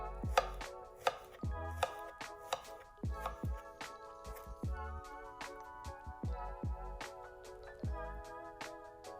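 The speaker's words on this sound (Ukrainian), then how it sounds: "які я нарізаю кружальцями" A knife cuts vegetables into rounds on a board, giving a quick series of sharp, close chopping knocks in an uneven rhythm, each followed by a short ringing tail, with no voices.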